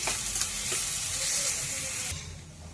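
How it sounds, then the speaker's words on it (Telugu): Chopped onions fry in hot oil in a pan for chicken curry, giving a loud continuous sizzle with a few stirring knocks that fades near the end. No one talks. "ఇవి దోరగా ఎర్రగా వేగిన తర్వాత చికెన్ వేసుకుని వేయించుకుందామండి."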